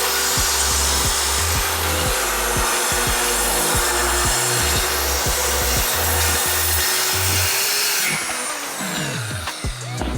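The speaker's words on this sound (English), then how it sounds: "we'll be able to cut the rest of these pieces with our oscillating tool." An oscillating multi-tool cuts through old hundred-year-old fir flooring boards, a loud, harsh buzzing grind with rhythmic thumps and shifts in pitch as the blade works along, then winds down near the end.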